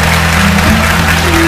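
Loud, continuous applause from a television studio audience fills the moment, dense and unbroken with a slight swell partway through, while a low hum or voice murmurs faintly beneath.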